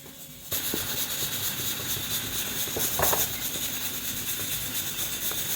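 A pressure cooker whistle on a home kitchen stove starts abruptly and carries on as a loud, steady steam hiss, with faint clinks and clatter underneath.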